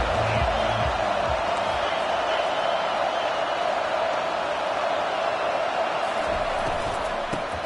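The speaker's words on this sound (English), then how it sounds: "This crowd bringing an ear-splitting welcome to their visitors." A stadium crowd in a football video game roars steadily, a dense, loud wash of cheering held throughout, with a few thumps early on and commentary-style talk mixed in underneath.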